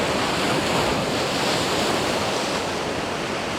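Ocean waves break against rocks along a coast with hills and mountains on the horizon, a continuous loud wash of surf mixed with wind buffeting the microphone, with no voices.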